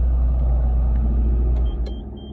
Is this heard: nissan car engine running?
yes